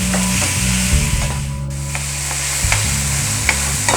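Tomatoes sauté for shrimp thokku, a steady close sizzle joined by repeated spoon scrapes and stirring clatter against the pan, with no talk.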